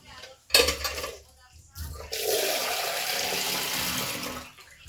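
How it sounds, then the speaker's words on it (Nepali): Water poured into a pan of matar paneer curry, a steady splashing gush lasting a few seconds after clinks of a pot and utensil, close by. "अब यसमा चाहिँ पानी हाल्ने"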